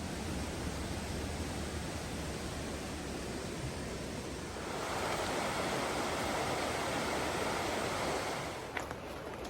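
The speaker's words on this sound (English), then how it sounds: "cascading waterfalls and rivers down the gorge below us here." A cascading waterfall and river rushing down the gorge at Dinas Rock in Wales, a steady, full roar of falling water that swells slightly midway and carries on with no talking.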